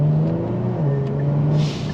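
A stock Kia Stinger's engine revs with its exhaust note rising and dipping over two seconds, a sharp burst of exhaust crackle near the end, heard close from inside the car.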